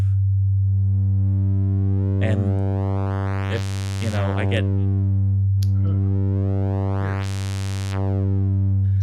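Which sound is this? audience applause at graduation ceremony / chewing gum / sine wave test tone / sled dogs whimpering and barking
sine wave test tone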